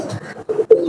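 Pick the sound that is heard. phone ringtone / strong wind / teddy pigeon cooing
teddy pigeon cooing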